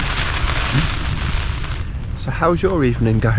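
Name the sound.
rain falling on a tent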